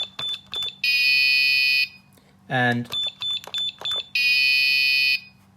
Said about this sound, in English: they put in a wrong code, they get an incorrect buzzer sound